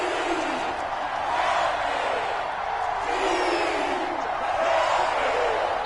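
A large football stadium crowd roaring continuously ahead of a big third down late in a close game, a dense, sustained wash of cheering and shouting that swells and ebbs.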